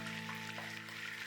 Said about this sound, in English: This searing or browning will keep our meat juicy.